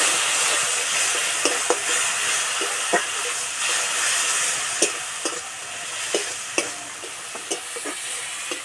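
A little water hits a frying masala of coriander and turmeric powders for a cauliflower and egg dish, giving a loud, steady sizzle and hiss punctuated by regular taps of a stirring spoon against the pan.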